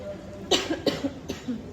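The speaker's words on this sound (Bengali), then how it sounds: "হঠাৎ করে কাশি হচ্ছে কিনা জানি না" A person coughs three times in quick succession, short, close and fairly loud, after exercising, with quiet breathing between the bursts.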